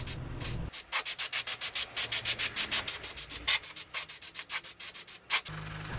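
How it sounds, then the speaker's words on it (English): Hand sanding across a routered wooden sign, quick rhythmic back-and-forth strokes of sandpaper on wood, close and steady, about five strokes per second in a long unbroken run. "I touched up some areas with a little more sanding."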